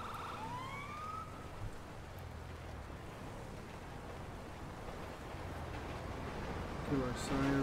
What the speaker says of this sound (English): Kill our siren.